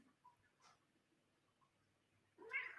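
A house cat gives a short, faint meow early on, followed by a louder, nearer meow near the end in an otherwise quiet room.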